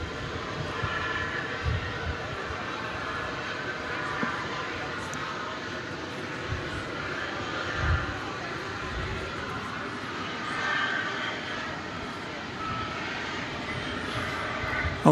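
A 22-year-old UPS Airbus A300 at DFW Airport gives off a steady, broad jet roar at moderate distance, with faint background noise and a few soft thumps.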